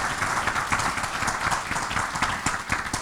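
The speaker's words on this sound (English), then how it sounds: "Let's give a round of applause to Salar for stepping up here on stage." A conference audience claps for a first-time speaker. The applause is steady and fairly close, with distinct individual claps audible within the crowd.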